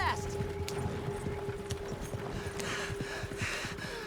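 Horse hooves clip-clop at a fast gallop in the Red Dead Redemption 2 video game, a steady rapid beat running throughout alongside a low engine-like hum and background game sounds, with voices talking over it.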